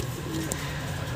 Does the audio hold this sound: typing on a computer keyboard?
no